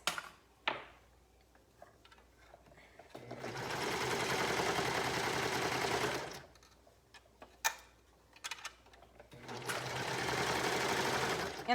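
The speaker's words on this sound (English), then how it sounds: "Let's go ahead and sew the other sleeve in place." A sewing machine stitches a sleeve into a garment in two close, steady bursts of rapid mechanical whirring, with quiet clicks and handling sounds in the pauses between them.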